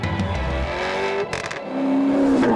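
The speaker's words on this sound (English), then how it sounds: "It's the most soulful sounding car I think I've ever heard." Alfa Romeo Disco Volante sports car driving with its engine note held steady and fairly loud, briefly dipping, then rising into a sustained tone toward the end; no talking.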